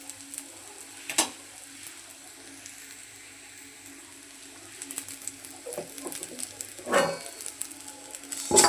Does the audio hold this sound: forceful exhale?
no